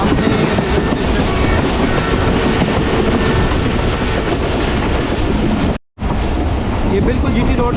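The 12DN Awam Express passenger train runs on rails between Taxila and Lahore, heard from on board as a loud, continuous rumble with rhythmic clatter and wind roar, briefly cutting out near the end.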